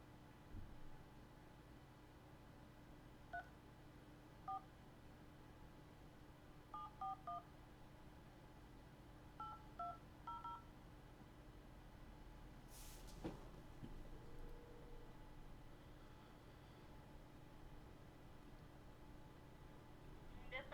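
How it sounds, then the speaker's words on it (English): Telephone keypad dialing tones, several short DTMF beeps in irregular clusters over a quiet hum of a truck cab, followed by a brief clatter. "I'll let you hear the phone call"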